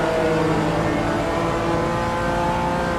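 A BMW race car engine in iRacing roars loud and unbroken at high revs for three seconds, with no voices over it.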